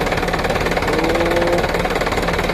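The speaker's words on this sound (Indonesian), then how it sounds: "mesinnya sudah hidup dan masuk giginya pun enak, enteng, tidak keserat lagi dan tidak keras lagi" A Mitsubishi car engine runs steadily just after a clutch replacement, giving a constant mid-pitched idle hum with light vibration, close and unbroken throughout.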